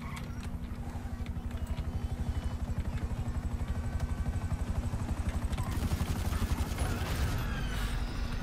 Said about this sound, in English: Shit, chopper.